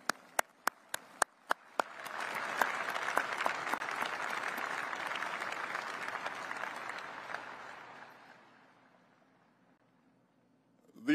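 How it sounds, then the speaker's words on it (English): Audience applause at the B-21 Raider bomber unveiling ceremony, opening with a few sharp separate claps, then swelling into a long, full round of clapping that gradually fades to near silence before a final burst. "let's give them a round of applause"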